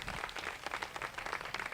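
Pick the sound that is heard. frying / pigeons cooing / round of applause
round of applause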